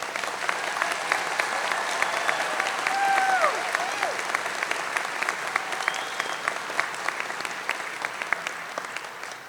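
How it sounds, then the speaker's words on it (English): Sustained audience applause at a college commencement ceremony for the graduating students, a dense crackle of many hands clapping for several seconds with a few whoops rising over it. "Let's give our students a big round of applause"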